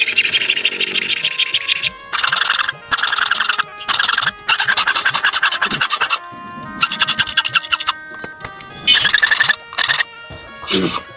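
Notches are hand-cut into a lock key for an old, broken padlock. Close, harsh rasping file strokes come in repeated rhythmic bursts separated by short pauses.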